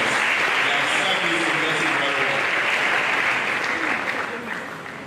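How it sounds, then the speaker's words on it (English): Dense, loud applause from the audience at an economic development forum fills the room steadily, then begins to fade in the final second. "let's give him more round of applause"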